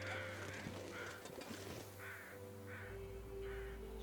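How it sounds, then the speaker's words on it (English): Crows caw repeatedly at a distance in the game The Long Dark, a steady series of harsh calls over a low background hum. "You can hear the crows."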